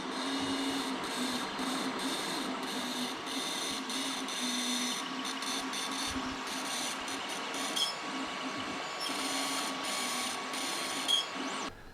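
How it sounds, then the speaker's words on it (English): A 3D printer printing a part, its stepper motors whirring and buzzing in a steady, close mechanical drone with short changes in pitch as the head moves. "I'll try and show you a little bit of video of one that's printing at the moment."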